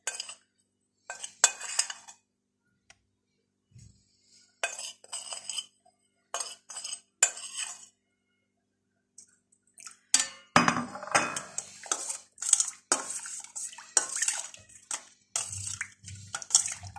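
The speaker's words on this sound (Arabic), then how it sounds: "زي ما انتم شايفين حطينا على اللبن كل البهارات اللي كانت موجودة معانا" Spices being stirred into milk in a bowl while cooking, with intermittent spoon clinks and scraping against the dish in irregular bursts separated by quiet gaps.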